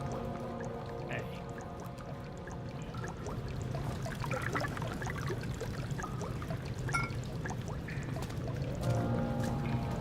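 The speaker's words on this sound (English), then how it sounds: "There's oil coming out of this." Oil pouring from a damaged pipe in the horror game Amnesia: The Dark Descent, a steady gushing, trickling liquid stream that continues evenly over a low droning ambience, with no talk.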